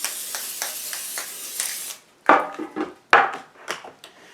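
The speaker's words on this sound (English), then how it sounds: "So what I'm actually going to do is just go ahead and spray it" Cooking spray laid as a light coat across a casserole pan for a low-carb zucchini casserole: about two seconds of steady, close hissing, then the spray stops and the pan and dishes knock and clatter sharply a few times.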